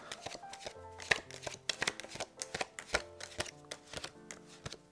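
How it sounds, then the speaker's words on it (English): Playing cards dealt rapidly face up onto a surface, a quick run of crisp slaps and snaps, uneven in rhythm and close by. "rapidly deal the 14 face up cards, like this"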